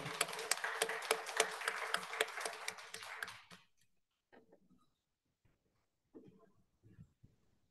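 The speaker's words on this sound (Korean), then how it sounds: "박수로 환영해 주세요" A congregation at a graduate students' worship service in the Seoul National University church claps to welcome a returning guest. Brisk, lively applause lasts about three and a half seconds, then fades and stops, leaving near silence with a few soft scattered sounds.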